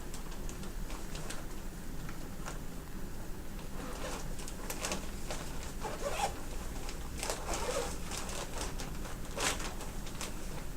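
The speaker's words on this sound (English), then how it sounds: "And then we're going to unzip the suit." Protective PPE suit being unzipped, a series of short scratchy zipper rasps in bursts over a steady low room hum, fairly faint and close.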